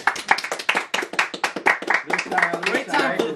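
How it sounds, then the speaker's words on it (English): Studio audience in a podcast studio claps for the camera and lighting crew: a quick run of sharp, close handclaps that continues steadily for a few seconds, with voices talking and calling out over it. "can we get an applause for them?"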